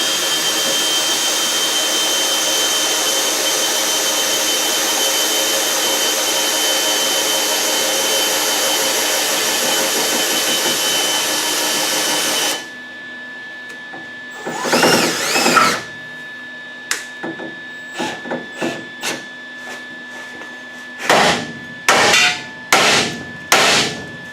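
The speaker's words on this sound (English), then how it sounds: "we're going to put these self-tappers back in to help try to pull that bumper back up" A power driver sinks self-tapping screws into the bumper of a 1999 Toyota Camry demolition derby car: after a long steady whine from a loud machine stops, short bursts of driver buzzing come in repeated close, loud pulses.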